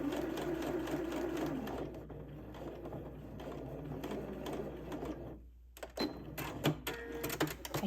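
A sewing machine bastes pressed tucks down within the seam allowance of a Butterick B6872 garment, running in a steady continuous whir for several seconds, pausing briefly, then restarting in short stitching bursts.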